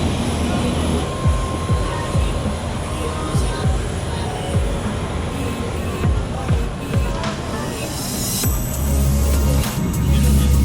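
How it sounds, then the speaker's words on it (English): A passenger airplane touches down at Lombok and taxis, its engine roar steady and loud inside the cabin, with thumps and rattles from the landing and a rising whine near the end. "Just touched down Lombok."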